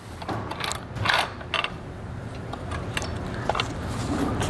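A Dutton-Lainson covered hand winch lets its strap unspool with steady mechanical clicking and gear whirring close by. It has a few louder taps near the start and no speech.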